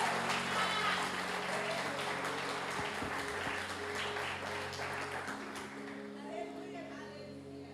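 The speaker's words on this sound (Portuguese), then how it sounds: "Dê uma salva de palmas ao Senhor." Church congregation at a Sunday service applauding together, a steady broadband wash of clapping that holds for several seconds with a sustained tone and voices mixed underneath, easing slightly toward the end.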